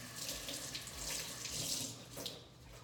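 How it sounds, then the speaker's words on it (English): Water from a kitchen sink faucet rinsing fresh basil leaves, a soft, steady hiss of running water, fairly faint and continuous, with no voices. "You couldn't see that, but I rinsed them off."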